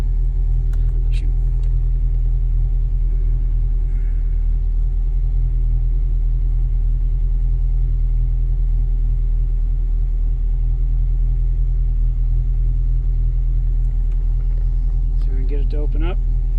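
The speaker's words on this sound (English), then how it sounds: "It is cold-blooded, so it kind of acts like a carbureted car when if it's cold outside before the engine's warmed up." A 1980 242 car engine runs cold, with a steady, loud, low rumbling idle heard close up throughout, with a faint hum and a few light clicks and knocks near the end.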